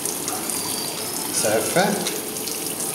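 Water runs steadily from a tap into a washbasin in a McDonald's restroom in London, a constant hissing flow with a person speaking briefly over it.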